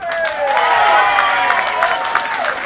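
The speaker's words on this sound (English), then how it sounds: "One more cheer for these guys." Boxing-match crowd cheering and applauding right after a bout, a dense, loud wash of claps and shouts lasting a few seconds without a break.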